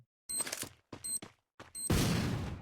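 A grenade blast in the Free Fire battle game bursts loud and broadband near the end, following a few short sharp in-game clicks and thuds.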